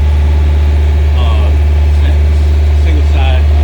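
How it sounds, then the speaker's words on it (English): A cruising boat's engine runs on the Intracoastal Waterway, a steady low droning hum close by, with a voice talking over it. "The engine's running now"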